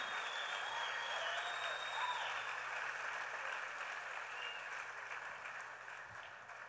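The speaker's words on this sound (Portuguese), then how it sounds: "Dá um aplauso ao Cordeiro." Church congregation applauding during a sermon, a steady, fairly distant wash of clapping that slowly fades, with no speech over it.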